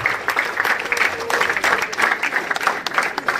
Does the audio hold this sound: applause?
yes